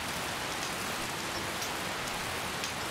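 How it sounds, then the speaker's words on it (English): Steady rain falls in Skyrim Special Edition, a dense, even hiss of drops on surfaces, faint and continuous with no other sounds. "I'm hoping the rain is going to end"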